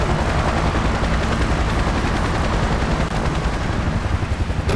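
A helicopter in the video game Emergency 4 lands with a loud, steady rotor chop and engine roar that holds unbroken for nearly five seconds.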